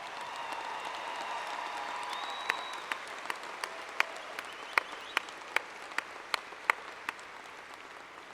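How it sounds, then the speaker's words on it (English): Audience applause fills a university spring commencement hall: steady dense clapping throughout with a few sharp louder claps standing out near the front, and a faint whistle partway through. "Please join me in a round of applause for our newest ASU alumni."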